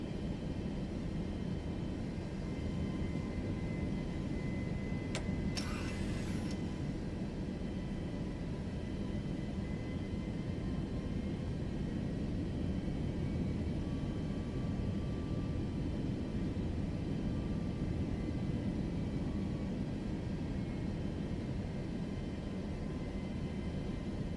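Steady, loud engine roar of a Boeing 737 airliner on its descent to land in Microsoft Flight Simulator 2024, holding even throughout with a short electronic chime near the start and no voices.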